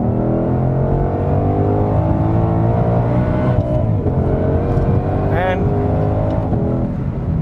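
A Ford Mustang Shelby GT500 under hard acceleration, its engine snarling loudly and continuously from inside the cabin, climbing in pitch with a quick shift partway through, and a voice speaking over it.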